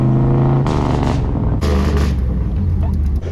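A truck engine roars loudly and close, its pitch dropping and climbing as the gears shift, with rough rumbling bursts throughout.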